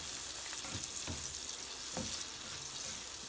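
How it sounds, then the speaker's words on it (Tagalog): Sausage fries with garlic and onion in a hot pan, giving a steady, fairly soft sizzle with a few scraping stirs. "Lutuin lang natin na maigi yung sausage. Saka yung mga bawang sibuyas."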